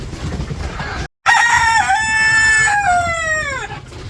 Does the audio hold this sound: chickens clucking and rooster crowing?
yes